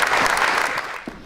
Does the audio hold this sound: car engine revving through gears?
no